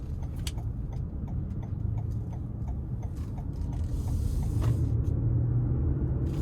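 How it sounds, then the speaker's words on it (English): A 2025 Toyota Highlander Hybrid XLE AWD cruises in eco mode, giving a steady low road and drivetrain rumble from inside the cabin with faint ticking clicks over it, growing slightly louder toward the end. "I'm gonna put it in the eco mode and see how long I can drive it this way."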